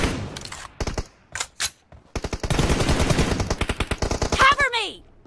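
Rapid automatic gunfire in a mobile shooter game, fast bursts of close, loud shots, with players talking over parts of it.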